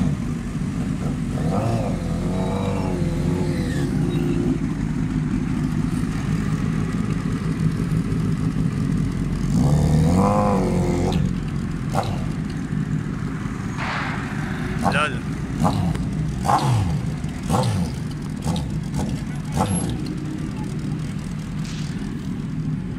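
A Yamaha R1 sport motorcycle revving and accelerating at a street festival, engine roar rising and swelling amid crowd noise and voices, with sharp popping bangs scattered through the later part.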